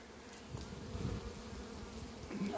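Honey bees buzz around a beehive, a steady low hum close by and fairly faint, with no talk.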